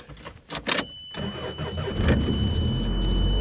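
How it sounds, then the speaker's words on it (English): A small 1990s car, a Toyota Paseo, cranks briefly with a few sputters before the engine catches and settles into a steady, close idle. "So let's start this car so you guys can see how it sounds."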